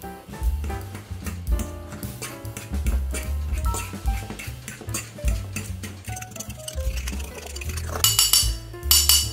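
Raspberries crushed with a fork in a bowl with sugar and rum, heard as a run of quick metallic clinks and scrapes of the fork against the dish, close and busy, with music playing over them.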